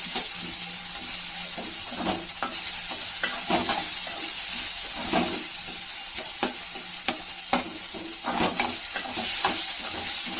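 Onions and tomatoes sautéing with rock salt in a pan for mutton chukka, a steady close sizzle and hiss broken by repeated scraping stirs at an uneven rhythm, with no talking.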